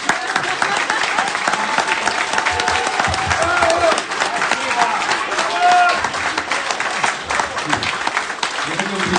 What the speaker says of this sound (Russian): Аплодисменты для нас, артистов, это высшая награда.